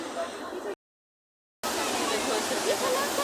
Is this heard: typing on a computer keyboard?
no